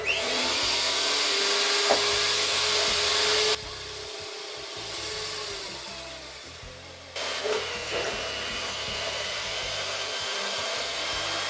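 A hand mixer whirs steadily through baking batter in a home kitchen in Lagos, Nigeria, loud and close, with a brief drop in speed midway before it picks back up and keeps running without any talk.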